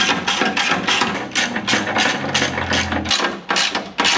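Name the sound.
ratchet removing skid plate bolts on a Toyota 4Runner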